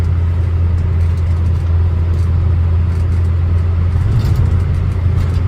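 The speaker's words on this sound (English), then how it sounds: "I thought I'd give you a good insight into what it's actually like to use a classic car in the rain and in the dark in December" Steady low engine drone and road rumble from inside an Austin Allegro classic car driving in the rain on a dark December morning, continuous and loud, with faint hiss over the top.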